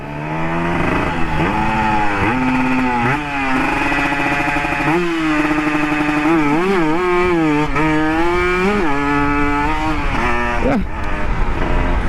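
A Kawasaki KR motorcycle out on a test ride, its engine droning loud and steady throughout while the pitch repeatedly climbs and dips with throttle and gear changes; no voices.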